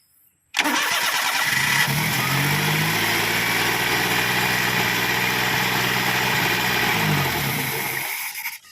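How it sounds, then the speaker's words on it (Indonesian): A Perodua Kancil car engine with a faulty carburetor switch cranks and catches, running at a steady, loud, close idle for several seconds before dying away and stalling. "dia akan hidup sekejap saja dan dia akan mati balik lah engine korang"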